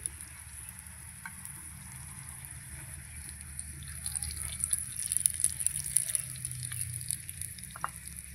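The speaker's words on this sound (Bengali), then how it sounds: "এবার এর ওপরে এই যে ডিমটা আমি ফাটিয়ে রেখেছিলাম, ডিমটা দিয়ে দিচ্ছি।" Beaten egg is poured over a roti frying in a pan for an egg roll: a quiet, low sizzle swells into a busier, crackling fry partway through, with a few faint clinks and no talking.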